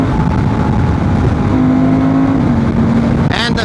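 A Honda Transalp 750 motorcycle fitted with an UPMAP T800+ ECU remap revs toward 4,000 RPM, giving a loud, steady, close engine drone that holds its pitch before a brief shift at the end.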